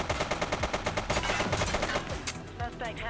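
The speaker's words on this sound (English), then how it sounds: "He's shooting!" Rapid bursts of video game gunfire from The Precinct, a police game, in a rooftop shootout with multiple hostiles; loud repeated shots in quick rhythmic volleys, with a sharp burst near the end.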